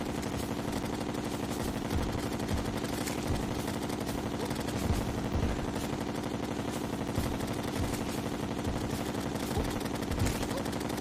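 Enemies firing at the player in a video game, steady rapid volleys of gunfire with scattered sharper impacts, continuous and mid-distance over a busy game soundscape, with faint talking underneath.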